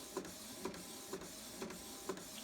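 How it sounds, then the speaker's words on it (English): A repaired Canon IX6850 inkjet with its back removed prints an edible photo on matte coated settings, giving a continuous mechanical whir and evenly spaced soft thumps as the head sweeps, close and low in level. "Here's a shot of a photo being printed on the printer after the heads have been cleaned."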